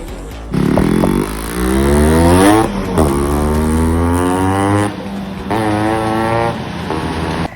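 A motorcycle engine revs up three times after a pickup problem was fixed, each pull rising in pitch before easing off, loud and close with a steady idle between.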